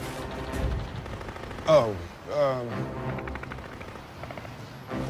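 Heavy gunfire from a scene in the 2008 film Hancock, with weapons of 50 caliber or bigger, comes as a few sharp, loud bursts amid speech.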